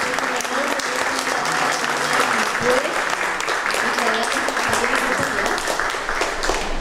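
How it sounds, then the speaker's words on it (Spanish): A crowd gives loud, sustained applause at a commemorative event, steady dense clapping filling the whole stretch with some voices mixed in. "Aquí le vamos a dar un fuerte aplauso también para comenzar."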